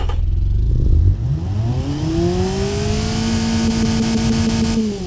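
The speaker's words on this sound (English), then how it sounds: "So there's the Civic engine, basically, the non-turboed one." A non-turbo Honda Civic engine in the BeamNG driving game drones steadily and loud for several seconds, its pitch rising smoothly as it revs up and then holding a sustained tone, with no talking.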